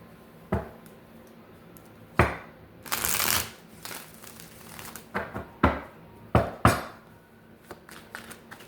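Tarot cards being shuffled, with several separate riffles and flutters of stiff cards coming close and fairly loud against a quiet room, spaced irregularly across the stretch.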